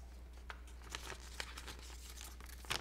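Planner stickers for an Erin Condren Life Planner monthly layout are peeled and pressed down, giving several soft, close crinkling and tearing bursts spread across a quiet background with no talking.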